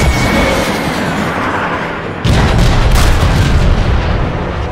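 Main guns firing in the PC game Transformers: Fall of Cybertron: a steady mechanical rumble, then a loud, heavy cannon blast about halfway through that swells into a sustained booming roar, with no talking.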